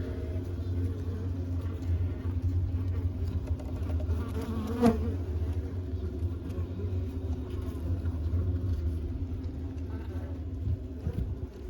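Many honey bees drone in a steady, close buzz around a Layens hive during a spring inspection that never lets up, over a low background rumble.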